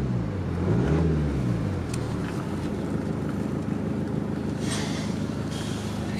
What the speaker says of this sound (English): Engine sounds perfectly fine.